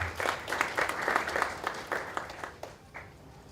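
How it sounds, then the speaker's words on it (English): Audience applause at a university Lawyers' Day event, a burst of many hands clapping fairly close, gradually thinning and tapering off toward the end. "can we clap for everything that is taking place here?"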